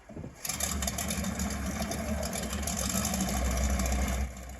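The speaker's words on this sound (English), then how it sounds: "Checks done, the engine is started." A vintage biplane engine cranks and catches, then settles into a steady, rumbling idle close by, running evenly with no voices.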